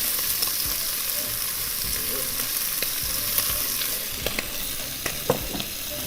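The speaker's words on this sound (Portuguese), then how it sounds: "eu vou agora colocar cebola" Onion fries in a pan alongside meat for a pork ragù, giving a steady, close sizzle with occasional clicks and stirring knocks, and no talk.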